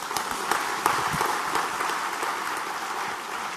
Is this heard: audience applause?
yes